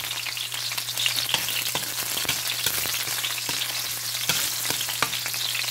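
Ginger sautés in a pan with a steady, close sizzle and crackle of frying, broken by occasional scrapes and clicks of stirring, with a low hum underneath.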